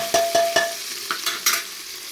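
Short bursts of sizzling as coriander is stirred in hot oil for a tempering, a few quick scraping strokes close by.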